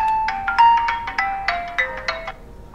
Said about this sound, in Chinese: 手机响